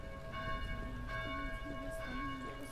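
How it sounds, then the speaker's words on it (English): Church bells ring steadily in the video game Dead Island, a sustained metallic toll with layered overtones swelling in a few strikes over a constant loud bed. "Please help us silence these bells."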